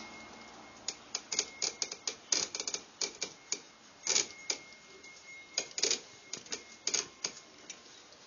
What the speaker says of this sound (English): you're going to insert on the outside edge with a nice sharp razor blade, and you're going to start to cut.